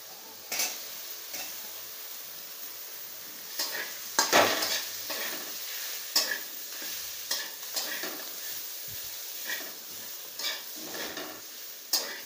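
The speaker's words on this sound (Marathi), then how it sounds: "हे सर्व मिश्रण असे हलवून घ्यायचं आहे" A spoon scrapes and stirs a potato vada pav filling with coriander and mashed potatoes in a pan. Rhythmic scraping strokes repeat with a faint sizzle underneath, and no voices are heard.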